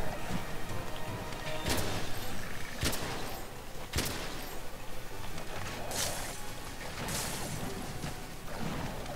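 Gunshots fired at a monster's tail in the video game Monster Hunter: World, several sharp, loud cracks spaced a second or so apart over a dense, noisy game soundscape.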